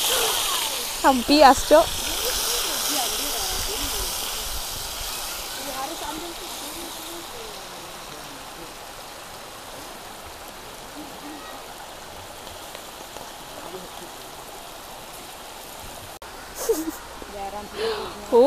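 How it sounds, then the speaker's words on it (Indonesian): Ingredients sauté in a pan for a Papuan-style yellow fish curry, giving a steady broadband sizzling hiss that runs throughout while people talk over it. "Oke, waktunya menumis."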